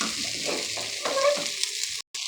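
Tomato and coriander leaves are stirred through pasta in a pan, a soft sizzle with scraping strokes that ends in a brief silent gap.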